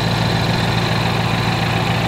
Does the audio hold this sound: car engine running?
yes